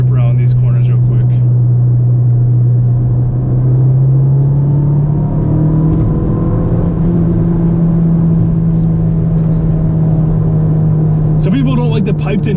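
Ford Fiesta ST engine heard from inside the cabin while cornering: a loud, steady low drone that climbs slightly in pitch as the revs build, with faint road rumble underneath.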